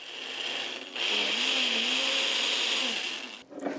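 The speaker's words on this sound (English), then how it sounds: "these are the canned beans in a food processor, in a blender" A blender pureeing canned beans with water whirs steadily at high speed for a few seconds, a loud continuous motor drone that winds down at the end.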